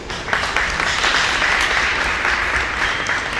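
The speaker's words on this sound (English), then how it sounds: "A bigger round of applause, please." Sustained applause from an audience at a design night event, steady and fairly loud throughout with no break.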